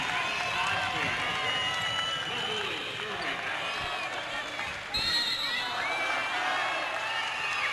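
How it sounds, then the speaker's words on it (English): Volleyball fans cheer loudly inside the Siegel Center arena during a 2012 boys high school state semifinal, a dense, sustained roar with whoops and shouts filling the space throughout, over a brief dip midway. "You can just hear the fans just really getting on their feet and cheering loud here at the Siegel Center"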